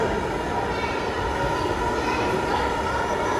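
A heated metal sound rocket tube resonating in a science demonstration, producing a steady, loud droning roar with a sustained tonal hum, continuous and unbroken like a rocket engine, with faint voices in the room.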